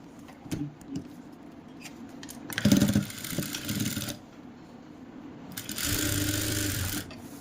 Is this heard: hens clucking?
no